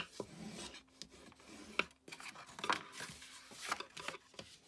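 Paper being folded and burnished for a handmade gift box album, close rasping rubs and creases in uneven strokes with small taps, quiet and without speech.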